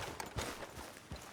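Horse hooves clip-clop in Red Dead Redemption 2, a few soft, scattered hoof strikes on the ground, quiet and somewhat distant.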